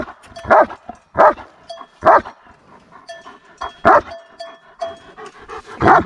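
A German Shepherd barks at cows in a field, with about six loud single barks spaced roughly a second apart and softer whimpers and yips in between.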